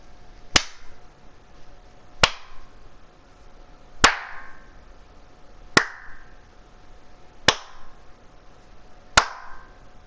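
A .44 Magnum revolver in Battlefield 4 fires six sharp, loud shots at an even, slow pace, each crack followed by a short ringing tail, with no talking.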